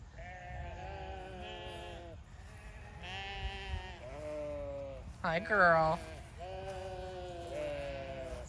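Sheep bleat repeatedly at close range, several drawn-out wavering calls and one sharper cry, while a person speaks briefly between them.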